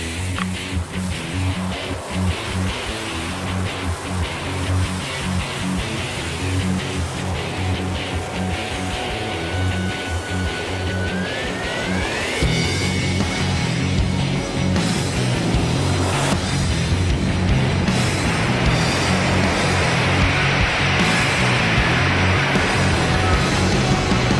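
Military aircraft starting up on an aircraft carrier deck, a loud continuous roar of engines and rotors with a rising whine partway through, building steadily and staying dense throughout.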